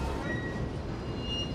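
Metro train rolling through a tunnel in a movie scene, a dense, loud continuous rumble of the wagons with faint high squeals from the wheels, steady throughout with no voices.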